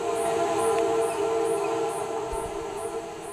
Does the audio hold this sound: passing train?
yes